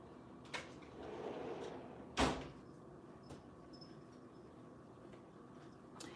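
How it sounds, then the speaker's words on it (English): An indoor door closes with one sharp thud about a third of the way in, preceded by a brief rustle and soft sliding, then a quiet room. "Let me close this door."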